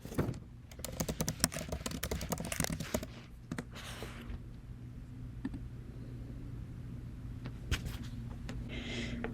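Rapid typing on a computer keyboard, entering search terms into a library catalog search page: dense clusters of sharp key clicks for the first three seconds, then a few scattered taps over a steady low hum.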